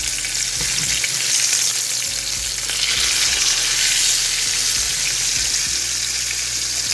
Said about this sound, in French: Et là, on va faire griller nos poitrines.